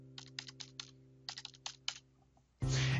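Keys clack on a computer keyboard in two quick bursts of crisp taps while an RMA number is typed, close and quiet over a low electrical hum, ending in a sudden loud noise.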